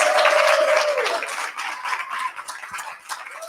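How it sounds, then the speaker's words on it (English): Audience applause at a film festival screening Q&A, steady clapping that is loudest at the start and thins slightly toward the end. "Another round of applause"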